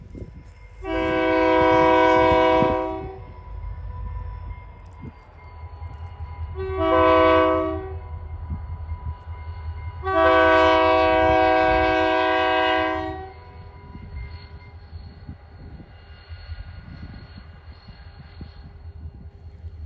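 A GP40-2 diesel locomotive backing toward a paper mill sounds three loud horn blasts, the middle one short, over a steady low engine rumble as it moves slowly.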